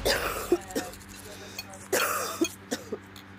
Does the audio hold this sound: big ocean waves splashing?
no